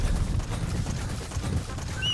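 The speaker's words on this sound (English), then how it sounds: "you can call D-Horse and he'll just run up beside you" Hooves of D-Horse, a horse in the Metal Gear Solid V video game, clip-clop steadily as it gallops up close, a continuous rhythmic patter with a faint whinny-like tone near the end.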